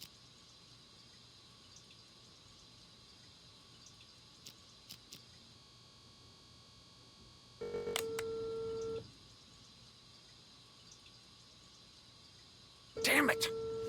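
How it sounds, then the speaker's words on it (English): In the video game Unheard, a phone line hums softly, then a dial tone and ringback tones sound in two sustained bursts that go unanswered, with faint clicks and a quiet background between them. "Pick up your damn phone already!"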